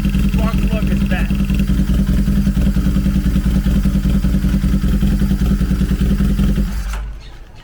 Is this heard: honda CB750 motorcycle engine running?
yes